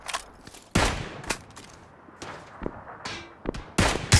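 Video-game gunfire in a battle-royale match bursts out in sharp, loud shots spaced irregularly, some close together, with short quiet gaps between them.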